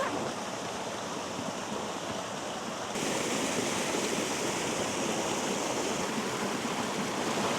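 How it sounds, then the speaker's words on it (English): Small waterfall cascades tumbling over slippery rocks along a stream, a steady, close broadband rush of water that swells slightly louder partway through and holds constant. "So I've been at this little section of falls here"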